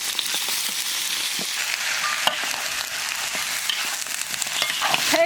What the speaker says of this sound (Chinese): 锅里倒点油，油后下入葱姜橄榄椒，炒香下排骨